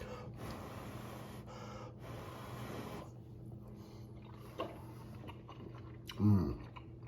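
Someone eats a hot bite of creamy Italian sausage pasta with spinach and sun-dried tomatoes, with close, soft chewing and breathing, a sharp inhale, and a louder snort-like gasp near the end, without talk.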